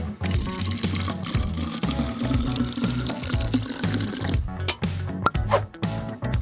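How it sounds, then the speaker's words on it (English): Soda is poured into an empty plastic bottle holding water beads, a steady gurgling liquid stream over a low background bed, with a few sharper clicks and splashes toward the end. "Just add soda."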